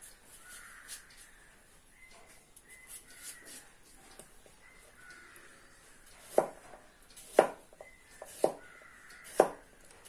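A knife chops peeled cucumber on a board: four crisp, evenly spaced cuts land close up in the second half, with faint bird calls in the background before them.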